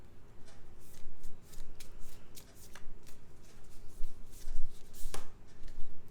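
Tarot cards are shuffled close by in repeated bursts of riffling and slapping, a rhythmic papery flutter with brief pauses between shuffles.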